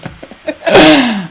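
A single sharp sneeze bursts out close to the microphone after a quick breath in.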